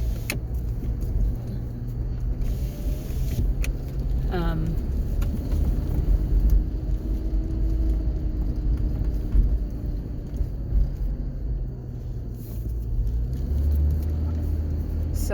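Inside a 2008 GMC Envoy cruising on the road: a steady low engine and road rumble fills the cabin throughout, with a brief faint squeak or rattle.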